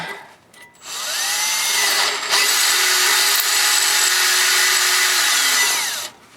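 A power drill runs steadily for several seconds at close range, a loud continuous whine with a slight pitch shift, then stops, drilling out stripped flywheel threads on a 1986 Jeep XJ 2.5L.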